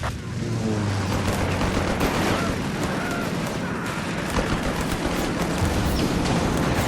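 Gunfire from P-47 strafing runs in Company of Heroes 3 forms a dense, continuous roar of rapid shots and rumbling impacts, loud and sustained throughout.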